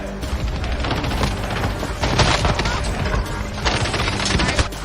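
Video game fireworks shooting off in a dense, continuous barrage of pops and booms, loud and layered throughout.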